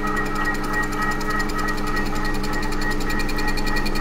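A TOS milling machine skims a Volvo six-cylinder cylinder head, giving a continuous loud mechanical drone with a fast rhythmic pulsing from the cutting tooth, close and steady throughout.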